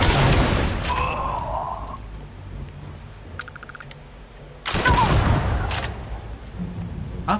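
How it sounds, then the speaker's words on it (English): Gunfire and grenade blasts in the video game Starfield, loud bursts opening and closing the stretch with a quieter rumbling lull between them. "I think we're shooting grenades at this thing."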